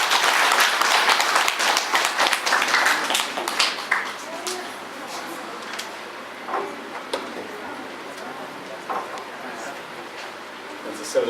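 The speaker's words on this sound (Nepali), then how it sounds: "उहाँलाई हामी ताली बजाएर स्वागत" Congregation applause at a Nepali Christian wedding welcoming the pastor, loud and dense at first, then thinning into scattered claps with a voice speaking beneath it.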